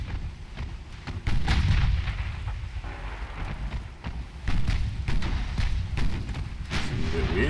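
A casemate naval gun fires in the naval combat game Ultimate Admiral Dreadnoughts, with repeated heavy booms and rumbling blasts rolling one after another, while someone talks over the gunfire.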